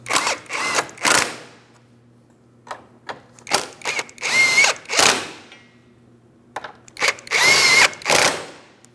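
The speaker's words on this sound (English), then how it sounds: "Let's snug up all 3 of the mounting bolts" A power drill snugs up three mounting bolts on a trailing arm bracket of a 2004-2008 Grand Prix, in a run of short, loud whirring bursts with pauses between, close by.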